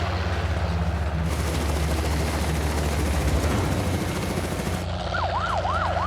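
A helicopter hovers near the mouth of a boma during a wildlife capture of kudu, impala and giraffe, a loud continuous rotor drone with a rising and falling siren cutting in near the end.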